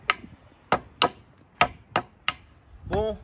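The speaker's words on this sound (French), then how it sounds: "On voulait enlever les grosses agrafes là avec le marteau, mais c'est une galère." A hammer strikes the wood of a van while prying out large pneumatic staples, giving six sharp, evenly spaced knocks followed by a brief scraping squeal, close and loud.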